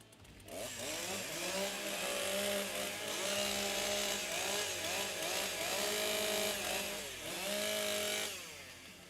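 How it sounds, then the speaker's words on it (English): Several chainsaws at a timbersports competition rev loudly and continuously, their pitch rising and falling as the engines are throttled up and eased off, filling the air with overlapping whine. "restart their saws. Your saws."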